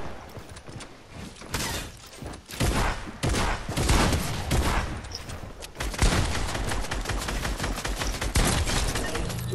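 Dense, rapid gunfire from a Fortnite match, with bursts and volleys of shots crackling almost continuously and loudly, overlapping one another with little pause.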